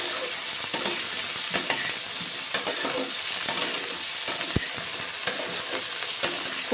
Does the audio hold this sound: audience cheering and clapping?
no